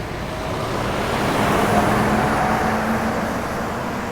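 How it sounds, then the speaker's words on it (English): Big trucks pass along a narrow Singapore road during a bicycle ride, a broad roar of engines and tyres that swells and eases with no break, loud and close. "the trucks are almost as wide as the entire road itself"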